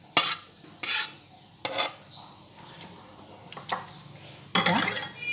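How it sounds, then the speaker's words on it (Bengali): A spoon scraping and clinking against a pot while sesame potato curry (til aloo dum) is transferred to a serving bowl, in several separate close scrapes with short pauses between. "এরপরে আমি তিল আলুর দমটা একটা পাত্রে তুলে ফেলছি।"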